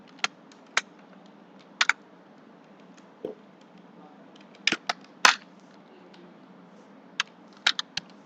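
Keys on a computer keyboard clack in short, irregular bursts as a letter's reference number is typed into an MS Word document, crisp and close against a quiet room hum.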